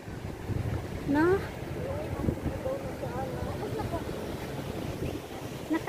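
Steady wind rushes against the microphone on an open beach, with a brief voice speaking over it near the start.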